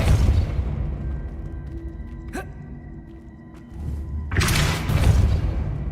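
A Depulso force-push spell cast in Hogwarts Legacy, heard as a sharp whooshing burst with a heavy thud near the end, following a quieter stretch that holds a brief swishing flick.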